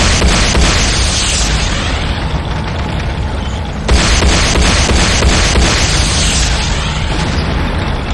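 In the Command & Conquer Renegade video game, a Nod power plant explodes in a loud, sustained roaring blast that renews once midway, with a rumbling, crackling wash close up and no talk.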